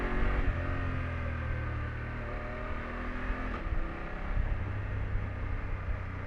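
A 2020 BMW F750 GS motorcycle rides over a rough road, its engine droning steadily and close with a gear change midway, the note dropping and then climbing again.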